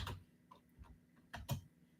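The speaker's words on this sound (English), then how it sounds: "I'll type it right here." Keys tapped on a computer keyboard in a few quiet, separate bursts of clicks, close and soft with no talking.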